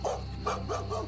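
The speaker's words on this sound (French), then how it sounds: "les chiens se sont mis à aboyer" Dogs bark near a garden pond, a quick series of three or four short, fairly faint barks in rapid succession.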